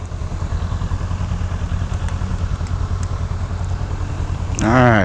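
Motorcycle engine, a Honda Rebel 500 or Harley Iron 883, idles steadily nearby with a low rumble, then revs up loudly as the bike pulls away near the end.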